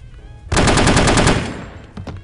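A fast burst of AK assault rifle fire in the video game No One Lives Forever, loud and close, with the rapid rounds trailing into a decaying echo, followed by a few faint impacts.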